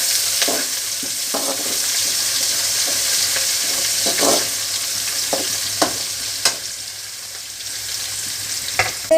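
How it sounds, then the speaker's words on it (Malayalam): Soybeans fry in a pan, a continuous bright sizzle broken by repeated scraping clicks of stirring at irregular intervals, close and fairly loud with no voices. "അപ്പോൾ ഒന്ന് ഇനി ഇളക്കി കൊടുക്കാം"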